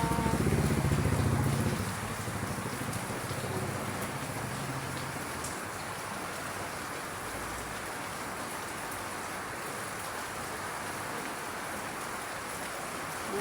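Steady rain falls on garden plants, a dense, even patter close by that continues without a break. A low rumble at the start fades after a couple of seconds.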